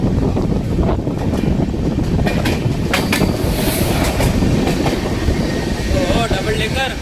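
The Mumbai Central–Ahmedabad Double Decker Express passes close by, with a loud, continuous rumble and clickety-clack of wagons, gusting wind across the microphone and brief sharp metallic squeals.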